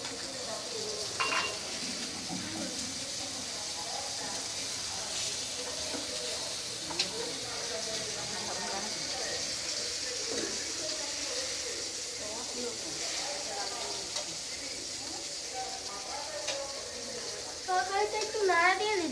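Fish curry in a pan after water is poured in, a soft steady sizzle and bubbling hiss with occasional utensil clinks and stirring, faint and close, with speech heard over it.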